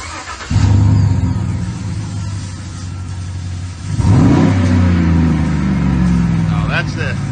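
A 2014 GMC 2500 truck engine fires up and revs twice through a Magnaflow exhaust, a loud, deep rumble swelling with each throttle blip and settling into a strong idle, heard close up.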